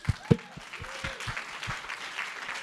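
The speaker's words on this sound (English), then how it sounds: "give a round of applause to each pitch" Light applause follows a pitch at an online NFT project showcase: a few close, thumping claps up front, then a faint, thin patter of clapping with a hint of voice.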